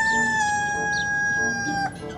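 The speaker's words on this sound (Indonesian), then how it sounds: "Ada satu ekor ayam nih" A chicken in the video game Jurassic World Evolution 2 gives a single clear crow over about two seconds, close and prominent against a quiet ambient game background.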